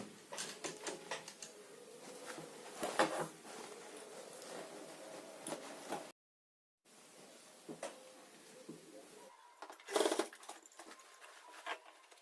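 A domestic sewing machine stitches pleats into a blouse puff sleeve in quiet, intermittent runs of fine mechanical clatter, with a brief silent gap and a louder burst near the end.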